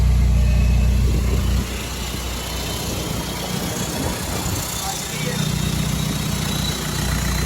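Diesel engine of a 2005 VW Jetta TDI with the BEW engine idles with a steady low rumble, close by and loud, while people talk over it.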